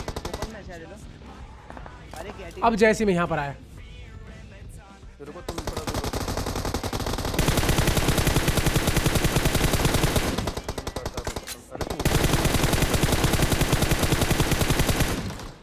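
Rapid automatic gunfire from a firefight in the mobile battle royale game BGMI, sustained loud bursts with brief gaps, following a stretch of someone talking over quieter game sounds.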